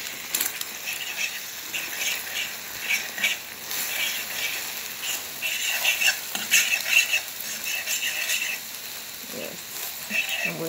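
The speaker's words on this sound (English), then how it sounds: "I'm going to scramble it out in the pot" Egg being scrambled in a pot, close rapid scraping and clinking of a utensil over a light sizzle, busiest in the middle stretch.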